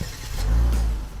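A Genesis G90 luxury sedan's 3.3-liter twin-turbo V6 swells into a deep, smooth engine hum that builds and then holds steady for about a second, close and alone.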